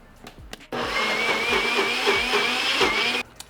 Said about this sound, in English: After about a second on the blender there